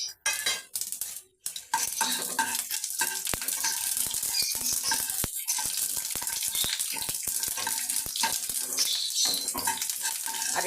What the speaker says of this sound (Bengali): এখানে আছে আমার সাদা জিরে, কালো জিরে, মৌরি, সর্ষে, লঙ্কার একটা তেজপাতা ফোড়নে দিয়ে দিলাম।